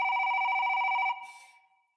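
Old-style telephone bell ringing in a quiet house, a loud rapid trill for about a second that stops abruptly and leaves a short fading ring.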